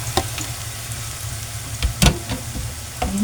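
Chili peppers fry in a pan with shrimp paste, giving a continuous close sizzle punctuated by a few sharp utensil knocks and stirring scrapes.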